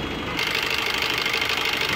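A Suzuki Baleno Delta 1.3 DDiS diesel engine idling with the bonnet open, a steady close broadband clatter and hum that swells slightly louder after a brief quieter start, with no talk over it.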